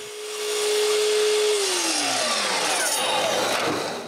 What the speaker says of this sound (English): I can cut it to size.